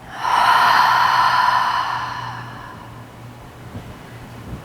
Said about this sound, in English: Exhale through the mouth. One more like this. Full breath in. Full exhale out.